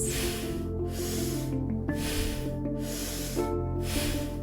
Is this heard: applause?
no